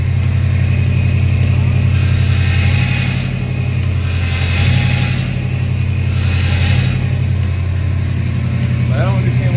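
A running car's power steering gives a faint rising whine each time the wheel is turned, though no fluid leak is found. The whine repeats several times over a loud, steady engine hum.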